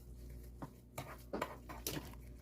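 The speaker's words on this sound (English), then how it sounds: "I put in 1/3 cup of sugar and 1 stick of butter in here. So we're going to get this stirred." Sugar and butter are stirred in a bowl, a few soft scraping clinks of a utensil against the bowl over a low steady hum, quiet and close.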